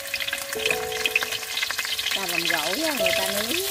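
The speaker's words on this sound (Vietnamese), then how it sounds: "Rồi bỏ vô chiên." Dried snakehead fish fries in hot oil in a pan, giving a steady crackling sizzle throughout while someone talks over it.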